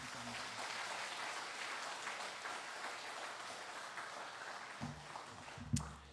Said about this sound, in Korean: 우리 목사님 나오실 때에 우리 환영과 감사의 박수 한번 드리겠습니다